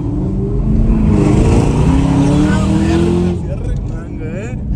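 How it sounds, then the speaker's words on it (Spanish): Car exhaust note while driving, a loud raspy engine rising in pitch under acceleration, then easing off as it settles, with people talking over it inside the car. "Pero suena también el escape"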